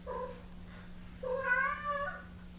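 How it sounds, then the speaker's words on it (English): A house cat gives two short nasal snorting calls close by, the second longer and louder, over a faint steady hum. "Or just snorting? That's his little snort."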